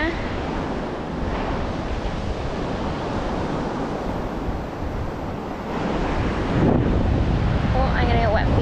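Waves breaking on Rainbow Beach, a steady, close wash of surf mixed with gusting wind buffeting the microphone, rising slightly louder near the end.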